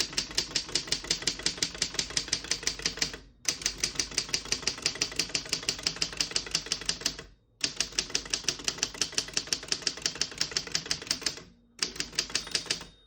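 A 1934 Underwood No.6 vintage desktop typewriter clatters with rapid, even keystrokes, close and crisp, in three long bursts split by brief pauses, with no talking.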